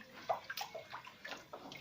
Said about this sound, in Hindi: झटपट तरीके से ये पानी को सारा डाल देंगे